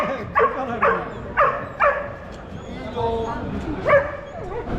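Dogs bark and yip in quick bursts nearby, several sharp barks in a row with a whimpering tone, fairly loud.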